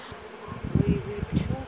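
A honeybee swarm buzzes as it is settled into a hive, a brief, fairly quiet droning hum that rises and wavers in short pulses.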